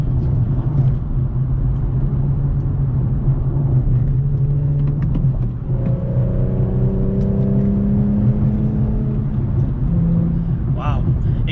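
An Infiniti G / Nissan Z with a six-speed manual transmission rumbles close by, its engine note rising steadily as it shifts and accelerates, with voices heard over the drone.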